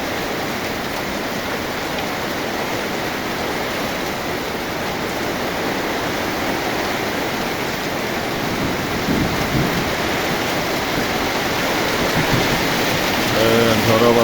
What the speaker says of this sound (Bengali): তো বৃষ্টি হচ্ছে আজকে বন্ধুরা অনেকদিন পর